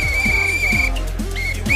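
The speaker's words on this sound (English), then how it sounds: "Gotta blow that whistle." A referee-style whistle sounds in a long steady shrill blast, then a shorter one, over a rhythmic thumping music beat with a voice in the background.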